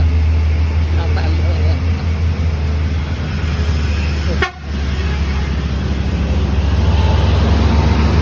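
A bus from Padang city passes on a mountain road at the Banto incline, with a steady, loud road and engine rumble, a short horn toot and the pass-by noise peaking midway, under talk.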